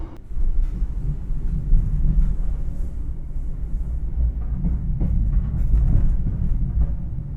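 The Logawa passenger train rolls into Kebumen station in Indonesia, a loud steady rumble of wheels and carriages with faint rhythmic clanks, heard close from on board for several seconds.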